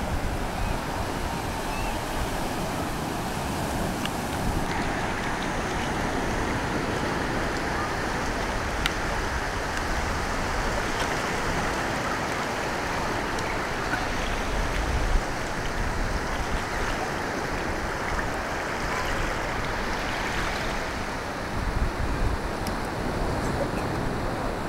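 Atlantic Ocean surf and wind roar together in a steady, loud wash of broadband noise that holds unbroken for the whole stretch, with wind buffeting the microphone.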